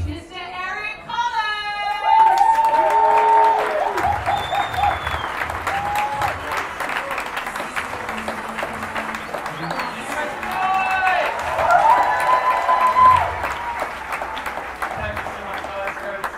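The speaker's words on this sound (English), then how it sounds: "give a roaring round of applause" A live audience bursts into loud, sustained applause with cheering at an event, the clapping roaring continuously while a voice speaks over it and bright whoops rise above the crowd.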